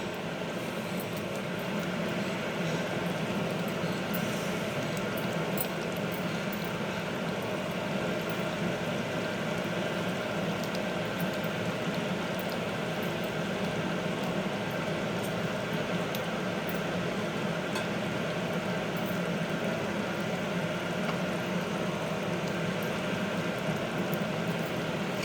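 Red snapper fish pieces simmer in curry gravy, a steady low bubbling hiss that runs evenly throughout, faint and close with no voices.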